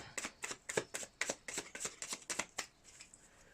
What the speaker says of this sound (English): We should shuffle those one more time